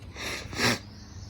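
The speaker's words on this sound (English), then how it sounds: "I got the sniffles" A couple of quick, breathy nasal sniffs close to the mic, the second one louder, then quiet.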